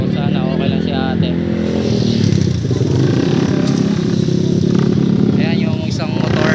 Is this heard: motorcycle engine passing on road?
yes